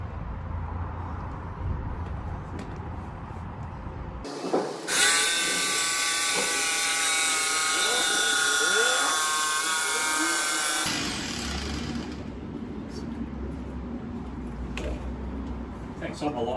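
A power tool cuts window holes into the wall of a micro camper, a steady high whining buzz that starts abruptly, runs for several seconds and stops, with quieter workshop noise before and after.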